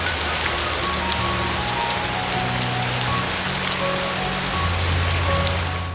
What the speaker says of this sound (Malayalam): മഴ കുറയുന്ന യാതൊരു ലക്ഷണവുമില്ല. തകർത്ത് പെയ്യുകയാണ്.